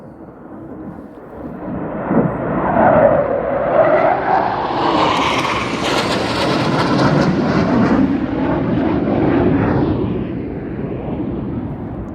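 Eurofighter Typhoon military jet flying low through the Mach Loop valleys in Wales, a loud rising and falling roar with a swooping whine as it passes close by and echoes off the hills.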